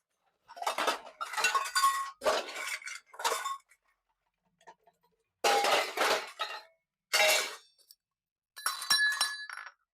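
Metal cooking pots clink and clatter as they are handled, in several short bursts of clanging separated by quiet gaps, close and moderately loud with no voices.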